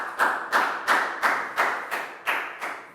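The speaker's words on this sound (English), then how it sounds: "Big round of applause for Nadia." Children in a Year 3 English classroom clap together in unison, eight evenly spaced group claps in a steady rhythmic beat, close and fairly loud with no talking.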